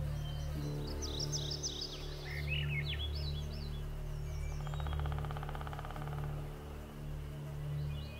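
Wild birds sing in a humid northern wilderness, a few bright, quick chirping phrases heard faintly at moderate distance over a steady low hum and background drone.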